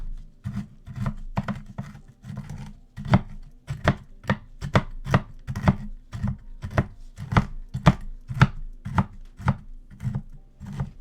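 Pecans are chopped with a knife on a cutting board, sharp rhythmic thuds repeating steadily and close, about two chops per second.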